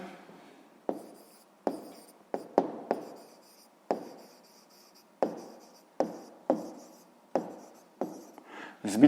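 A pen writes an answer to a sixth-grade maths exercise in a notebook: about a dozen short, distinct scratching strokes in an uneven rhythm. Each one is close and crisp, with quiet gaps between them and no talk.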